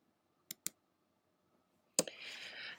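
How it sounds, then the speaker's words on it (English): Two quick, crisp computer mouse clicks sound close together in near silence, followed a moment later by a sharper click and a soft rush of background hiss. "And then I'm going to click OK."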